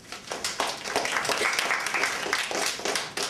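Church or meeting audience applauding a guest speaker as he is welcomed, a burst of bright, dense hand clapping from a mid-sized crowd, fairly close and steady for a few seconds.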